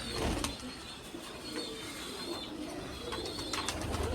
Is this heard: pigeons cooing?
yes